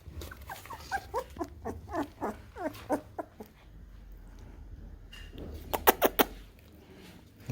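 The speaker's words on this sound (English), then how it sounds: "Very good dogs." Puppies about three weeks old let out a series of small high squeaks and whimpers, close, with a quieter gap and then a few sharper yelps near the end.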